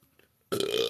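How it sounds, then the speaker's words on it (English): After a half second of near silence, one long, loud and close burp erupts and rolls on to the end of the clip, with no talking. "I'm just gonna be over here burping"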